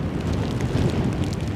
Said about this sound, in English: As you can hear, the wind is onerous.